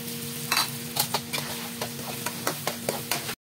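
Tomato and garlic frying in a pan, a steady sizzle under a run of sharp, evenly spaced scraping and stirring clicks from a utensil, close and fairly quiet, ending abruptly.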